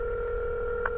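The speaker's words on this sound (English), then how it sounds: "Calling you. I'm ringing." Ringback tone of an outgoing phone call, a steady two-pitch electronic hum held throughout, with a faint brief click near the end and no talk.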